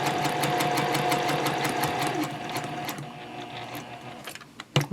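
Sewing machine stitching up the side of an elf Christmas stocking, running in a fast, even rhythmic whir for about three seconds, then slowing and stopping, with a few sharp clicks of handling at the end.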